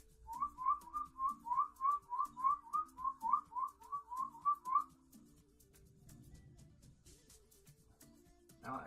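A person whistles a quick run of about a dozen short, bright, evenly spaced chirps at button quail beside a humming incubator fan, then stops, leaving the low fan drone alone.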